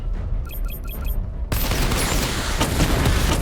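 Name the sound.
missile barrage firing in the video game Batman: Arkham Knight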